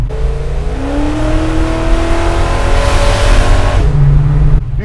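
A 700 hp naturally aspirated 454 Chevelle revs hard, its engine pitch climbing steadily for several seconds and then dropping abruptly, loud and close throughout.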